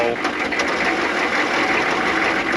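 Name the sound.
1995 6.5L turbo diesel engine running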